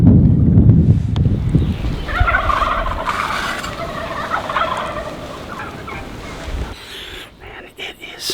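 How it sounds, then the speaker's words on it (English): Wild turkey gobblers in trees in South Dakota call out with loud, rolling gobbles, several overlapping at a middle distance, first under heavy close rumbling and wind noise and then ringing out more clearly. "We got a lot of gobblers. Gobblers in these trees here."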